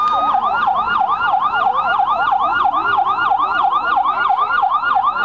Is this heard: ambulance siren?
yes